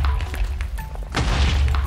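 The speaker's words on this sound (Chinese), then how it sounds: "我们要先来炸三个行星，让它们大爆炸" Planets exploding in Minecraft, heard as deep, heavy booms: a rumbling blast early on, then a bigger crash-like explosion about halfway through, loud and close with no voices.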